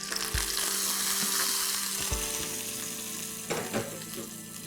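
Cashew nuts fry in hot ghee in a pan, giving a continuous bright sizzle with a few soft stirring knocks and clinks, close and steady throughout.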